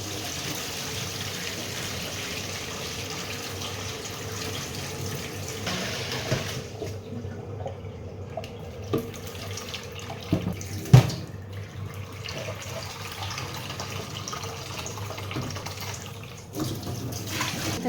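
Water runs steadily from a tap for the whole stretch, with a few light clinks as something is rinsed under the stream.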